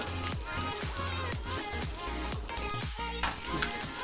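Ingredients for egg biryani fry in a pan with a continuous loud sizzle, punctuated by regular scraping strokes of stirring roughly twice a second.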